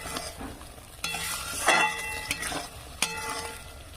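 Spice paste with cashews being stirred and sautéed in a pan, a close, continuous sizzle broken by a few sharp metallic scrapes and clinks of the spoon against the pan, no voices present.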